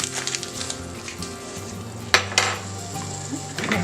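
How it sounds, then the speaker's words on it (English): Three tablespoons of butter melting in a pot over medium heat for tomato basil soup, giving a steady close sizzle with a sharp clatter of cookware partway through. "we've got our pot on medium heat here, guys, and I'm going to go ahead and stick in 3 tablespoons of butter"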